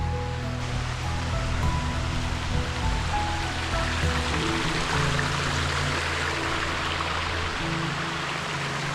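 A waterfall along a river in a hidden natural spot sends out a steady, dense roar of rushing water, constant and fairly close, with no voices over it.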